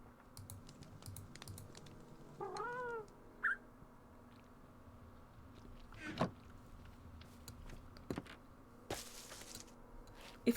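Someone meows in imitation of the happy ghast from Minecraft, giving one short wavering call amid sporadic computer keyboard typing and clicks, fairly quiet overall.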